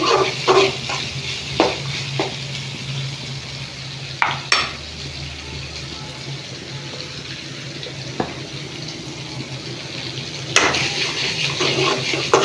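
Meal maker soya chunks fry in a pan with a continuous soft sizzle, broken by intermittent scraping stirs and a few sharp clinks of the spoon against the pan; no one speaks.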